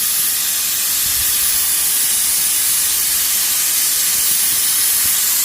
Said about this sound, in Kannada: ವಿಸಿಲ್ ಆಯಿತು, ಬಂದ್ ಮಾಡುವ.